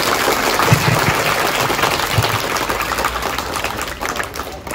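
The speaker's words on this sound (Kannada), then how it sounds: "ಸೊ ಟುಗೆದರ್ ವಿ ಸರ್ವ್ ತಂಡಕ್ಕೆ ಜೋರಾದ ಚಪ್ಪಾಳೆ ಮೂಲಕ ಸ್ವಾಗತ" Government school children applauding a visiting team at an anti-smoking awareness event, loud sustained clapping from a large group that carries on for several seconds.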